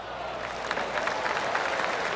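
A small gallery in a golf video game gives soft, polite golf-clap applause after an approach shot, a faint, steady patter of light claps with no one speaking.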